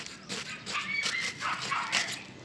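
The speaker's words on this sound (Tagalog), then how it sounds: "Ang ingay naman ng aso, kawawa naman." A dog nearby barking in short yips mixed with whimpering, a string of high cries and whines heard on their own over a quiet rural background.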